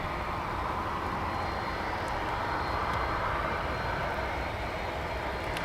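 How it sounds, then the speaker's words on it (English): A UPS MD-11 tri-jet departs at DFW airport, its engines making a steady, broad roar that holds at an even level from start to end, with no talking. "here's a look at two of the UPS MD-11s, one of which has just backed up and is getting ready to depart."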